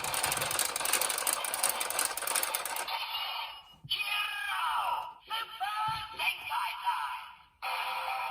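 DX Zenkai Buckle toy from Kikai Sentai Zenkaiger loudly playing its Super Zenkai time sequence: dense electronic music and chanting voices at first, then a run of bright announcing calls with brief gaps between them.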